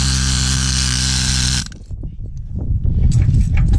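A needle scaler hammers rust, paint and grease off a metal surface, a loud dense buzzing chatter that cuts off abruptly, followed by softer scattered clatter and rustling handling noises close by.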